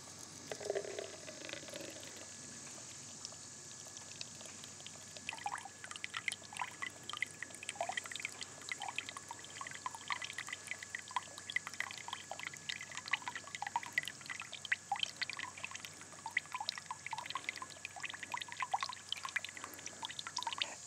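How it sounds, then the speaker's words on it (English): Water pours steadily from the poly pipe output of a ram pump, a faint continuous trickling gurgle with small irregular splashes and drips, heard alone close by. "here we have the poly pipe output."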